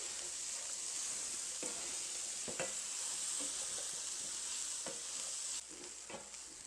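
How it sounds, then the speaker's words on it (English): Onions and garlic softening in butter in a pan give a steady, close sizzle, with a few brief stirring scrapes and no talking. "we're going to cook these, again, 3 to 4, maybe even 5 minutes until the onions and garlic are just nice and soft"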